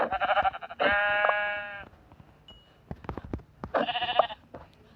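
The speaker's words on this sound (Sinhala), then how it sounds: "මෙතන බැටළු දෙන්නෙක් ඉන්නවා" Blocky sheep in the Minecraft video game bleat loudly several times, drawn-out wavering cries separated by scattered clicks and footsteps.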